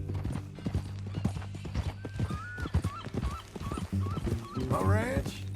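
Horse hooves clip-clop at a steady walking rhythm in Red Dead Redemption 2, close and clear, with a brief whinny and someone speaking over it.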